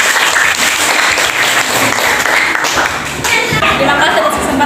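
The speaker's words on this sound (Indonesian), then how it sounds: "Baik, tepuk tangan dulu." Steady applause from a classroom of students after a lesson on redox reactions, dense clapping filling the whole stretch at close range, with some voices mixed in underneath.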